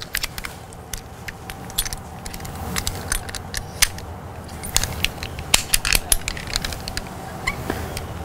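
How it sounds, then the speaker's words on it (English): A Grigri belay device being fitted onto a fixed climbing rope produces close metallic clicks, rattles and snaps from its moving parts and carabiner, scattered and irregular throughout with light handling noise and no talking. "We can add our Grigri to that line."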